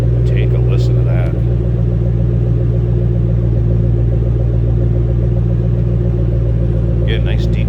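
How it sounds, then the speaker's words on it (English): A 2007 Ford Mustang Shelby GT500 idles with a loud, deep, throaty exhaust rumble, steady and close throughout, with brief higher-pitched sounds near the start and end. "Get a nice deep throaty exhaust note."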